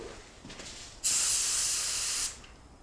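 A spray gun spraying paint lets out one continuous hiss for just over a second, then cuts off cleanly in a quiet room.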